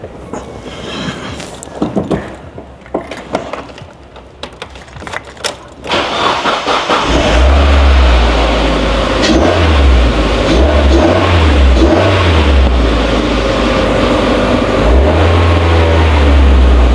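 A Formula 1 car engine in the garage fires up after several failed attempts and settles into a loud, continuous roar with repeated revving surges.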